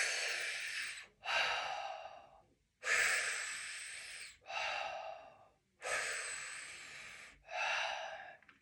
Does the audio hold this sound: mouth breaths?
yes